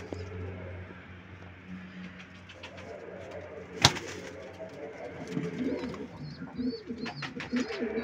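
A pigeon coos softly in a quiet setting, low repeated calls amid faint background noise and one sharp click near the middle.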